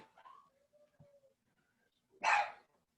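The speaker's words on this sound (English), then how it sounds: "that's my little dog" A small dog gives a short burst of barking partway through, fairly close and loud, after a quiet stretch with faint background noises.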